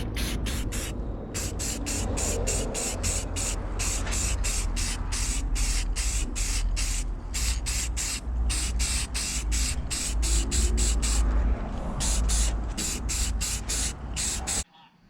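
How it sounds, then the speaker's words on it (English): A spray can of black paint hisses in rapid short bursts over a metal manifold, one after another, close and loud, with a few brief pauses between runs of spraying. "I'm just gonna give it a quick wipe down and spray it black."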